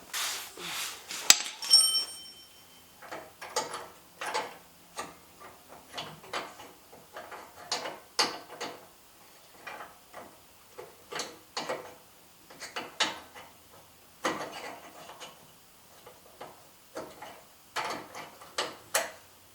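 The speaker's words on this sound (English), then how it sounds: "cotter pin just came right out" Small metal clicks, taps and scrapes come from pulling a cotter pin and pushing a pin out of a boat trailer spool roller, scattered close-up mechanical ticks in an irregular rhythm with quiet gaps.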